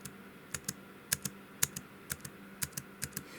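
Light, clicky keystrokes tap out an irregular rhythm on an Acer Aspire 5 laptop keyboard, close and fairly quiet, with no voices.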